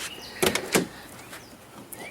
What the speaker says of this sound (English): Passenger door also opens and closes normally.